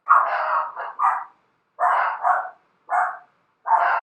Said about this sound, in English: They were barking at nothing.